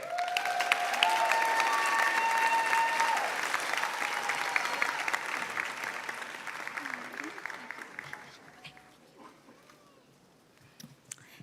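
An audience at a UCLA School of Dentistry commencement claps loudly and steadily to welcome a speaker, the dense applause gradually thinning and fading out near the end.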